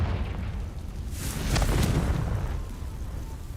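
A Confringo spell explosion in Hogwarts Legacy, a single deep boom with a sharp crackling burst that swells and then fades into a low rumble.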